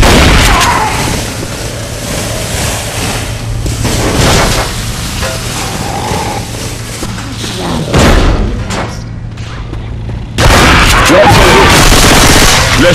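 Rapid gunfire and heavy thumps from the zombie shooter Left 4 Dead 2, loud and dense with bursts throughout, under in-game voices and a low steady hum, ending in a sudden loud burst.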